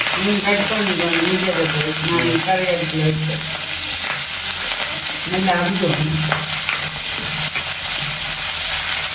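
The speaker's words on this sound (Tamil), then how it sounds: "இந்த வெங்காயங்கள் வந்து கொஞ்சம் பதம் வேணுமா ஓகே இப்போ வந்து நல்லபடியாக வதங்கி கொண்டு இருக்குது" Onions sautéing in a pan in a home kitchen in Jaffna on a rainy day, a loud continuous sizzle and hiss with stirring, while people talk over it at moments.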